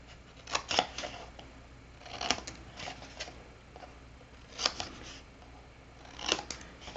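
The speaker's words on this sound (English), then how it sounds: "we're going to do a little snip here, and a snip there, and get it right to the corner" Scissors snip through chipboard and paper corners for a 6x6 mini album, several quiet, close crisp cuts coming in small clusters, with soft handling rustles between them.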